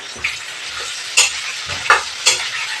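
Onions and garlic sauté in a pan with a bright, constant sizzle, broken by four sharp spatula stirs and scrapes at irregular intervals, close up and with no voices.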